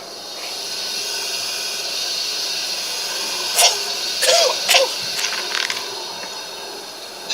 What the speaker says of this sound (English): All about me, the thunder of machinery, the blasts of boiling steam.